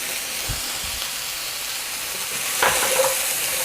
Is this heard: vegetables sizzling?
yes